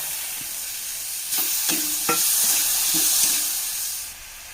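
Tomato added to onions frying in a pan, a loud bright sizzle rising suddenly, with a few stirring knocks, before easing off near the end.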